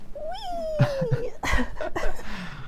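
A pet cat meows once in a long, rising-then-falling cry close by, followed by thumps and indoor household noise with a few short vocal sounds.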